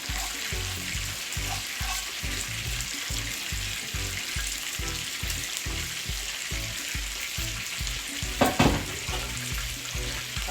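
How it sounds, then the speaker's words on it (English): Rice goes into a pot of cooked seasoning for Jamaican rice and peas, setting off a continuous sizzle with rhythmic stirring scrapes and a sharp clatter near the end, close and steady, with no voices. "I will now go ahead and add the rice. Adding the rice to the pot."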